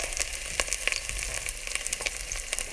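Onion and garlic fry in a pan on a stovetop burner turned up high, giving off a busy crackling sizzle full of sharp pops at uneven intervals. It sounds close, with no talking over it.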